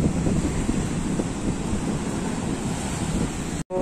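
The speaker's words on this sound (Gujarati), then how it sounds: "અને આ છે અમારા ગામનો દરિયો." Sea waves wash against the shore near Mangrol port in a continuous, steady surf, heavily buffeted by wind on the microphone, with a brief cut just before the end.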